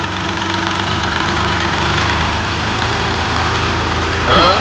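A tractor engine idles on a farm field with a steady low rumble that holds even and close throughout, rising slightly louder in the final moment.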